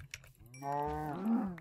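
Cows mooing in the video game KaoshKraft: a single drawn-out, harmonic bovine moo swelling from low to a louder peak over about a second, with a few soft clicks before it and no talk.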